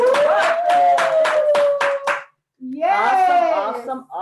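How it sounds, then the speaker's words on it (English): An audience at a poetry slam claps in a steady, rhythmic beat for an artist, the sharp claps standing out close and loud over a sustained voice, then a brief pause before voices and noise return. "we're gonna clap it up for the artist and not the score"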